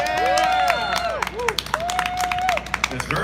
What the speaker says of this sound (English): Let's have a rousing round of applause for Paterson's Poet Laureate.